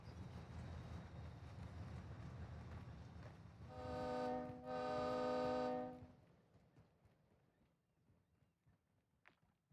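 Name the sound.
train horn in a video game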